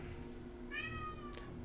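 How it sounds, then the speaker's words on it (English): A pet cat gives a single drawn-out, fairly loud meow over a low steady background hum, with no talking. "Meow. Such a loud girl."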